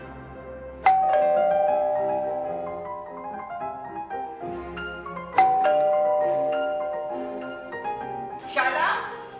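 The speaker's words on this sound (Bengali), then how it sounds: "কলিং বেল বাজছে, দরজাটা খোল।" A two-tone doorbell chimes twice indoors, a bright ding ringing out and decaying over a low background hum, with a short burst of noise at the end.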